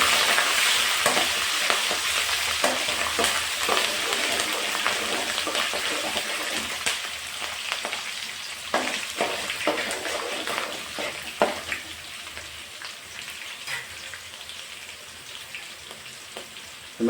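Tomato, green chillies and other ingredients for rava uppittu frying in a pan, a loud continuous crackling sizzle with frequent stirring scrapes, steady throughout and gradually easing.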